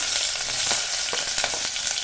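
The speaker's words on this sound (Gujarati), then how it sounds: "ડુંગળી એડ કરીશ અને હલાવી દઈશ" Hot oil sizzles loudly and steadily, a dense crackling hiss with occasional stirring scrapes, close by and without talk.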